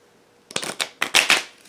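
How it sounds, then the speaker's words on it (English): A small oracle card deck is shuffled close up, giving a quick series of about six crisp riffling bursts over less than two seconds, alone without talk. "it shuffles fine"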